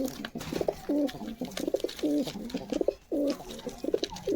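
Fancier pigeons kept for sale give repeated throaty coos in quick rhythmic phrases close by, with faint talk in the background.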